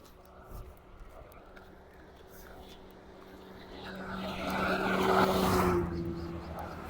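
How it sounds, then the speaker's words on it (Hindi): A car passes at full speed on a lightly trafficked highway near Haripur, its engine and tire roar swelling to a loud peak, then easing off, with a steady hum and outdoor ambience throughout. "जो भी गाड़ियां गुजरती है ना, बिलीव करें क्या स्पीड होती है उसकी, फुल स्पीड में गुजरती है यहाँ से"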